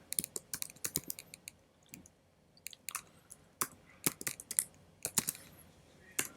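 Quiet clicking of a computer keyboard as a docker command is typed, irregular bursts of close, crisp keystrokes with short pauses between groups.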